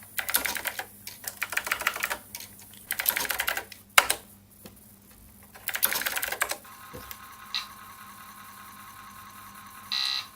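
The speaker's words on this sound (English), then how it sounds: "typing is much better on the mechanical key switches" Clacky bursts of typing on a MechBoard64 mechanical keyboard fitted to a Commodore 64, coming in several separate runs of rapid keystrokes with short pauses, and a couple of brief electronic beeps near the end.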